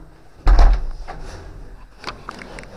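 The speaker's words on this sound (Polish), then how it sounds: "Zamknę tutaj drzwi." A door shut at a house under renovation with one sudden heavy thud, close and loud, followed by softer rattling and a couple of light knocks as the room settles.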